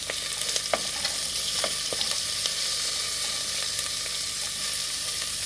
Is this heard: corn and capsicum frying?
yes